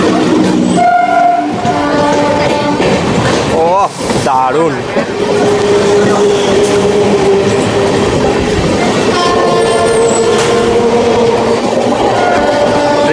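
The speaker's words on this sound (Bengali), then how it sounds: "তার মাঝখান দিয়ে ছুটে আসছে আলো বের করে লোকাল ট্রেন।" A local commuter train rushes past at speed with its headlight on, a loud rumble and clatter of wagons with a sweeping horn blast midway, while a person exclaims briefly over the noise.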